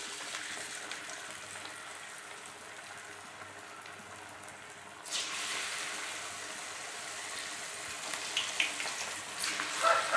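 Banana flower vadas frying in hot oil: a quiet stretch gives way to a sudden broad bubbling sizzle once the patties go in, growing busier with crackles toward the end.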